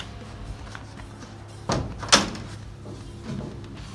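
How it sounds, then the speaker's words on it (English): A car door, on a Volkswagen Kombi, shuts with a solid thud followed by a sharp latch click, close by, against quiet background hum. "Just close the door in."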